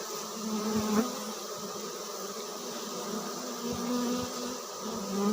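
A large swarm of honeybees buzzes steadily around an open hive as frames are worked, a dense, continuous drone close to the listener with no one talking.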